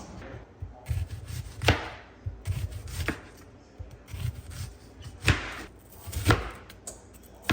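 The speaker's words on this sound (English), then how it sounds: "this is just how I cut onions and how I've always cut onion" Knife chopping onion on a cutting board, a series of close, sharp irregular cuts with quieter scraping and shuffling between them.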